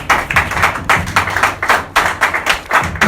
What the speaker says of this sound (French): on acclame très fort pour le Seigneur